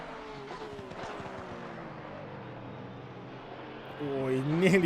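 Race car lapping Imola in Assetto Corsa Competizione, engine droning steadily with shifting harmonic whine, then a louder rising engine note near the end as the car is pushed; a commentator's voice runs underneath.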